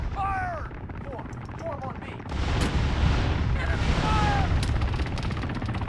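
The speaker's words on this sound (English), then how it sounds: "Toss grenades over at those guys encamped. Grenade out." Grenade blasts and gunfire in the military shooter ArmA 3: a sudden loud burst of explosive noise rolls in midway and stays dense, with rapid shots and voices speaking over the battle.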